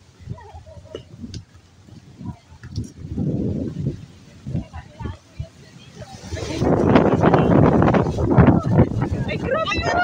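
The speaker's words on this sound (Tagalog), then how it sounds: "Ay, grabe yung hangin." Strong outdoor wind in a breezy spot in Bulacan, Philippines, is heard first as intermittent gusts and then as a louder, steady rushing blast on the microphone, with someone talking throughout.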